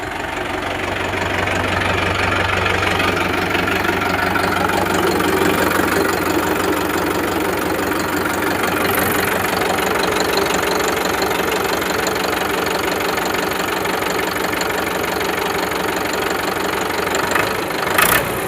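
A 2014 New Holland tractor diesel engine runs steadily and loudly close by, a continuous rumbling idle with a knocking edge that holds evenly for the whole stretch, with no voices over it.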